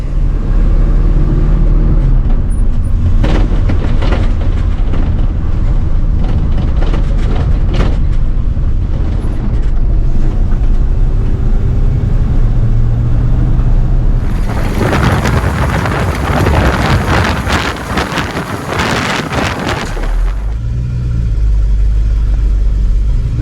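A tow truck is driven along, its engine and road rumble loud and continuous with heavy wind buffeting the microphone, and a harsher roaring stretch midway before it settles again.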